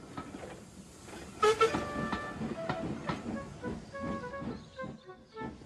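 An old narrow-gauge steam engine pulls a train in a cartoon, with rhythmic rail clatter and bursts of whistle tones over steady chuffing, moderately loud and without talk.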